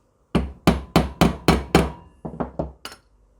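A hammer taps a pin out of a KTM 690 Enduro lever adjuster: about ten crisp metallic strikes, a quick even run of six and then lighter, quieter blows, close and with no talking.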